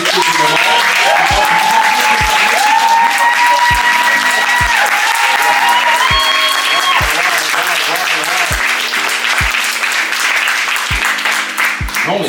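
A conference audience at a talk on mental health and faith bursts into sustained loud applause with cheering and a few whoops, steady crowd clapping filling the room throughout.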